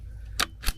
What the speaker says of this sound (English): Here we go, first shot.